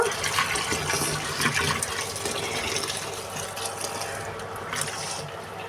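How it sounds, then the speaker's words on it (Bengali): Tap water running steadily while an eggplant is washed in a home kitchen, a continuous splashing flow close by with no talking. "বেগুনটা ধুয়ে নিচ্ছি"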